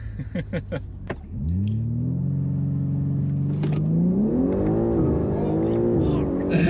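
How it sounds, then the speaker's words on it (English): A BMW G80 M3 engine rumbles at steady high revs while brake boosting, then the pitch rises as it launches and accelerates hard, loud and close, with brief voices at the start. "I think we're just brake boosting it."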